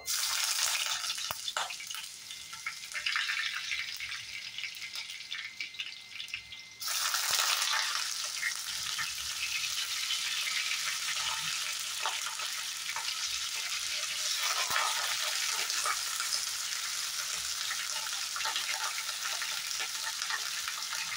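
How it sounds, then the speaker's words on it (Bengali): Eggplant frying in hot oil for a drumstick curry, a dense, loud sizzle that surges suddenly partway through as pieces hit the oil, then continues steadily with crackling close by, no speech. "তেলটা ভালো করে গরম হয়ে গেছে। প্রথমে আমি বেগুনটা দিয়ে দেব।"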